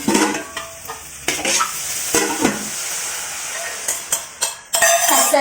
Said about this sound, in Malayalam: ഈ ഒരു മിക്സ് നമുക്ക് ഇതിലോട്ട് ഒഴിച്ച് കൊടുക്കാം